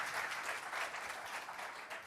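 A conference audience at a tech talk breaks into a continuous round of applause, soft and somewhat distant, steady throughout without talk over it.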